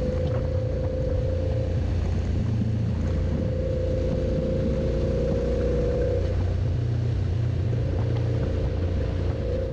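An adventure motorcycle rolls down the Grimsel Pass, its engine a steady close droning rumble with a sustained mid tone and wind noise, with no one talking.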